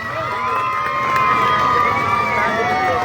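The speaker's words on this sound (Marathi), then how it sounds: "जोरदार टाळ्या झाल्या पाहिजे संजय दादासाठी." A large crowd gathered for a Marathi film promotion event in Turbhe, Navi Mumbai, cheering and shouting loudly and continuously, with a steady roar of many voices and high whoops.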